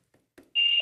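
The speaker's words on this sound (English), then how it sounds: "You're beeping." A sustained electronic beep sounds on a phone-in line during a motorsports call-in show, starting abruptly after a couple of faint clicks and holding steady and fairly loud to the end.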